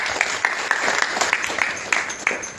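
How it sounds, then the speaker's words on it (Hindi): Scattered audience clapping at a spiritual lecture hall, a thin, uneven run of hand claps with distinct individual smacks rather than a full ovation, moderately loud. "माता जी के लिए ताली बजाओ आप सब लोग"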